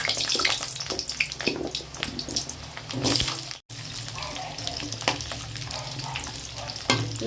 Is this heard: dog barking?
no